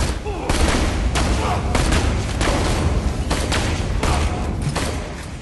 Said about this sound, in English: Just shoot him with the sniper.